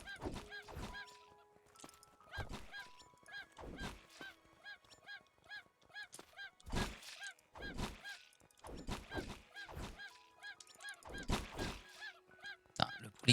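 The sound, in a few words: chicken in the Craftopia video game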